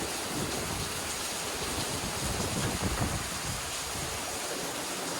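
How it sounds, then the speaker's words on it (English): Torrential rain pours steadily outdoors in humid weather near a pool, a dense, continuous wash of hiss and splatter with no letup. "torrential downpour going on right now."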